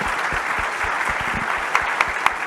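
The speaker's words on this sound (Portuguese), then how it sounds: "uma salva de palmas para os painelistas desse painel" Dense audience applause for panelists at a banking technology conference, a steady wash of many hands clapping throughout, with a few sharper individual claps standing out near the end.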